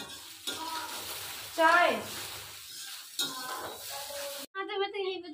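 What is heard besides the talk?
idli frying in a pan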